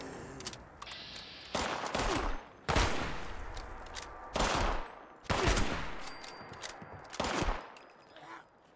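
Repeated bursts of gunfire in the video game Fallout 76, several loud shots and short volleys spaced across the clip, each with a sharp attack and a decaying tail.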